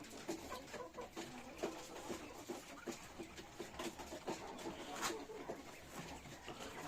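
Chickens cluck softly while eating compound feed in a coop, a busy low chorus of short clucks and pecking close by, steady and fairly quiet throughout.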